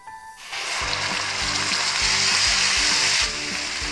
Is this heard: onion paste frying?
yes